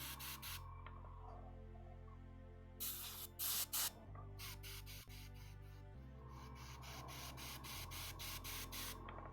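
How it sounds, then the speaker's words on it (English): Paint is sprayed onto a palette and paper while a Forge World Lion El'Jonson miniature is being painted, with an airbrush hissing in repeated bursts broken by short gaps and a few louder blasts. "let's just give a little spray on the palette"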